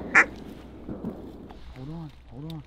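Several wild ducks quack in short nasal bursts near the microphone during a duck hunt, with a sharp call at the start and faint background voices.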